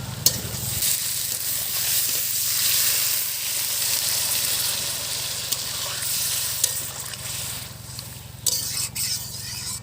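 Hot water is poured into a pan of frying potato and papaya curry, setting off a loud, steady sizzle that hisses throughout with faint stirring clinks.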